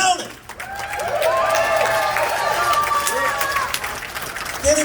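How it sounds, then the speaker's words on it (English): Audience applause at a patriotic event, a crowd clapping steadily at moderate loudness while voices call out and cheer over it. "Give him another big round of applause."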